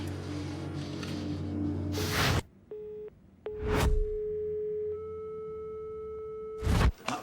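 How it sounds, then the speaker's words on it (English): A telephone left off the hook emits a steady electronic tone that holds for several seconds, broken by short gaps and a few louder bursts of noise, with no voices heard. "He's taken the phones off the hook."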